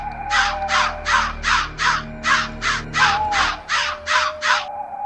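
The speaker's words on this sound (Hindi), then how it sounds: "मंदिर के ऊपर काले कौवे का झुंड मंडरा रहा था।" A flock of black crows caws above an old ruined temple, about a dozen loud, evenly spaced harsh calls repeating steadily, close and clear with no voices.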